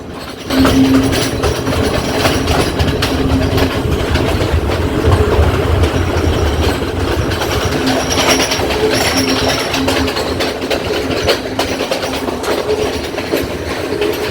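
A train rolls steadily along the rails in Sri Lanka, approaching Hatton Railway Station, a continuous loud rumble with rhythmic clatter and a faint metallic squeal, no voices.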